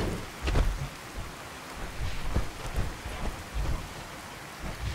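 Steady rain falls with low rumbling thunder in the Fallout 4 video game, a soft continuous wash broken by several deeper swells, with no talking.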